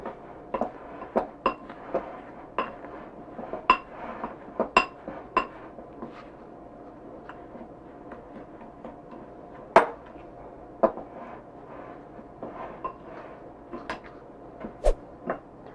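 Apple crisp ingredients being mixed with flour in a bowl, with a run of sharp clinks and taps of a utensil against the dish, irregular and close, over a quiet kitchen background.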